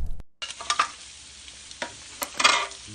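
Food sizzles and crackles in a frying pan nearby, with a few sharper scraping stirs and pops over the steady hiss.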